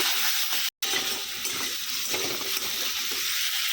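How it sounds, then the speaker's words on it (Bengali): Potatoes, tomatoes and a green chilli sizzle in a pan, a dense even hiss with faint stirring, broken by a brief cut near the start. "এখন দিয়ে দিচ্ছি সমস্ত কিছু, আলু, টমেটো আর একটা কাঁচা লঙ্কা। এখন একটু ভালো করে একটু ভেজে নেব।"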